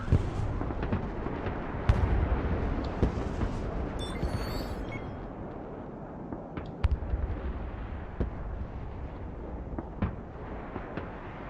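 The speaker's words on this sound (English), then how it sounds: "Artillery ready to fire, sir." Artillery fire in the video game Broken Arrow, a series of sharp booming blasts spread across the stretch, some near and loud, others fainter, over a rumbling battlefield background.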